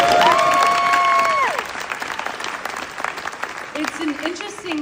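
An audience at a speech event breaks into steady, full applause that carries through, with a voice briefly heard over it at the start and again near the end.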